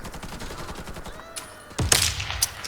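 Rapid gunfire crackles in an online shooter match, a dense stream of distant shots and then a louder close burst near the end, with no talking.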